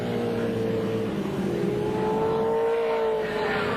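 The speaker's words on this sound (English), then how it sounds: "they've got a lot of slower cars still to pass before they get to the next corner" Touring cars racing at the 1981 City of Melbourne Touring Car Trophy, with engine drone rising and shifting pitch as the cars pass, loud and close, with no talk.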